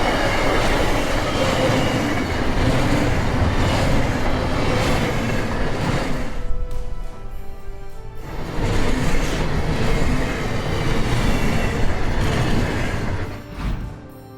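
BNSF freight train, about 2,800 feet long and led by an EMD SD75I diesel locomotive, sweeping through a curve near Lee, Illinois: a continuous loud roar of wheels and rail noise with squealing, easing briefly before resuming.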